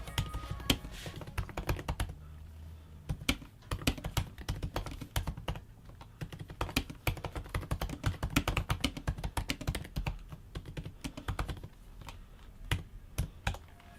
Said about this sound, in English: tap away on this new MacBook Pro keyboard